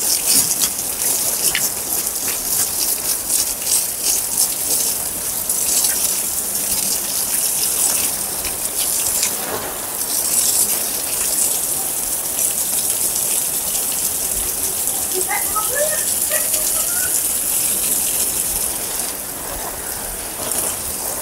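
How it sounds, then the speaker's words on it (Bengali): Water is poured steadily onto home garden plants, including fig trees. A loud, continuous gushing spray like heavy rain holds without a break throughout, with no voices. "দেখো বন্ধুরা কেমন জল দিচ্ছি এখন"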